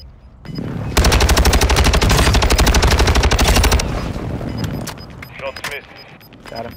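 A close air support strike in a video game tears in as a loud, rapid burst of heavy automatic gunfire lasting about three seconds, then a rumbling aftermath with scattered smaller shots and brief voices.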